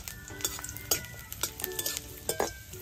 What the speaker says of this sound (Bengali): একটু লাল করে ভেজে দিতে হবে রসুনটা এবং ঝালটা